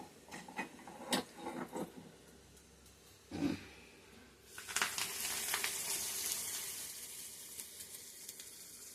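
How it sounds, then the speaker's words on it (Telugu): Hot tempering oil poured over a spinach chutney sizzles, with a loud, steady hiss beginning midway and continuing to the end, after scattered soft clinks and taps. "నూనె అంతా ఈ విధంగా పచ్చడి మీదనే వేసి నేను పోపు వేస్తాను"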